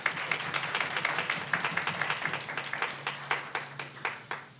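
An Anglican church congregation applauding to welcome the priest at Sunday Mass: steady, fairly distant clapping from many hands that thins toward the end, with no talk.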